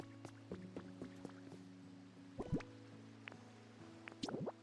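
Water drips in a video game in a soggy area near a beach: scattered, irregular plinks and drops over a steady tonal ambient hum, close and clear, with no talk.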